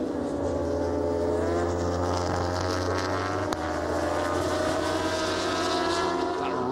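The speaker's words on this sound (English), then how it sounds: "That rasping noise of the Ducati wasn't enough then" Ducati superbike racing at Assen in the 2005 World Superbike round, a loud sustained engine rasp holding a steady drone with shifting harmonics throughout, without any commentary.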